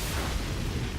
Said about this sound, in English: Whoa, that was an explosion?